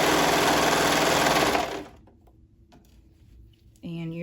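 Sewing machine stitching reversible swim bottoms, a loud dense whir for about a second and a half, then stopping to quiet handling with a voice coming in at the end.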